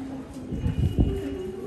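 Pigeons in a racing-pigeon loft coo softly at close range, low throaty bursts with some shuffling and faint background voices.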